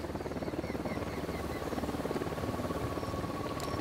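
A helicopter in a sniper video game gives off a steady, fast rotor thump, faint and distant, pulsing evenly throughout with no speech over it.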